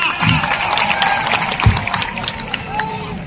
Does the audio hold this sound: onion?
no